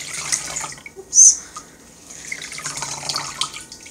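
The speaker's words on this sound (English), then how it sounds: "you hold it under running water, and then you're just going to wring it out." A damp cloth is wrung out after being held under running water, giving a trickling, splashing spatter of water with one brief louder splash, no talk.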